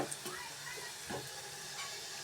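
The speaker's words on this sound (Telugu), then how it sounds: "చూడండి, ఉల్లిపాయ వేపుతున్నా." Onions frying in a pan, a faint steady hiss and sizzle with a few soft scrapes, quiet and continuous.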